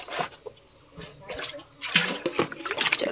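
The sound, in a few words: water pouring while rinsing something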